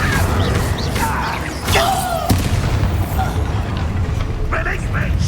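Casting the Incendio spell in Hogwarts Legacy, with booming, crashing magical blasts and whooshing effects layered over a constant spoken voice and game noise.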